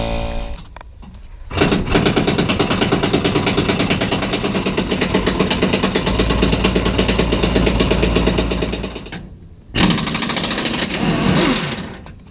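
A small air compressor clatters loudly in a fast, steady rhythmic pulse during work on a Toyota Tundra. It drops out briefly before kicking straight back in at full strength.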